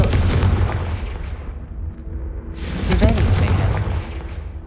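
A fiery Confringo spell blast in the Hogwarts Legacy video game bursts out loud and close with a sharp broadband crack, over a rumbling booming game soundscape that swells around it.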